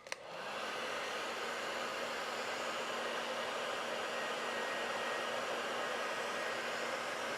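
A heat gun or hair dryer warms a Harley mirror mount, starting with a click and then blowing a steady, even airflow hiss with no talk.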